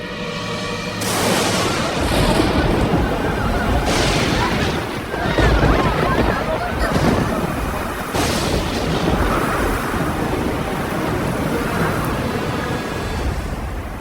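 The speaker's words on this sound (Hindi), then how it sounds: "ये तूफान तब तक थमना नहीं चाहिए जब तक वृंदावन पूरी तरह पानी में डूब न" A storm sent to flood Vrindavan roars as continuous thunderous crashing and rumbling, loud and dense throughout, with heavy surges near the start and middle and no break in the noise.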